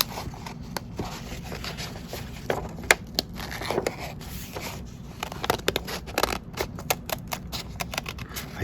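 Scissors cut along a folded paper butterfly outline, a close series of crisp snips and papery crinkles with uneven pauses between cuts and no talking.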